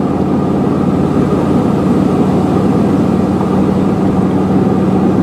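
A 1975 Cadillac Fleetwood's engine drones steadily while cruising at highway speed around 2,300 RPM, a continuous low rumble with road and wind noise from inside the car, no voices.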